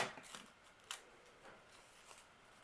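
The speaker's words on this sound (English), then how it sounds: "Cut in, turn the paper, cut out. Cut in, take the scissors out," Scissors snipping through folded paper for a snowflake, a few faint, quick crisp cuts and rustles close by in a quiet room.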